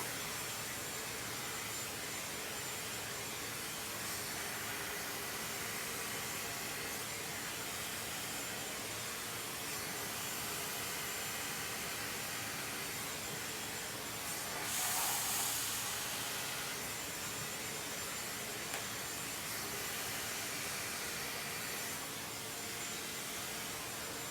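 Hair dryer with its nozzle pointed down during a brush blowout, a continuous close, loud airy whoosh that barely changes, with one brief surge partway through.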